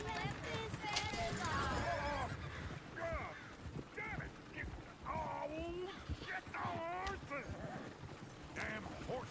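Horse hooves clip-clop in the open-world Western game Red Dead Redemption 2, a fairly quiet run of hoof beats mixed with voices and squawking animal calls.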